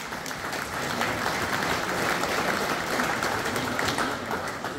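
A crowd at an awards ceremony for a Westphalian championship claps continuously in dense, steady applause that holds at an even level throughout.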